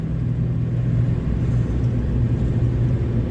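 A barn-find Chevy 3500 truck with an 8.1 engine drives on flat-spotted tires, making a loud, steady low rumble with constant road and engine drone throughout.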